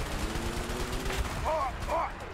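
Rapid bursts of gunfire crackle over a busy, noisy scene in the video game A Way Out, with rockets falling and synthetic electronic chirps near the end.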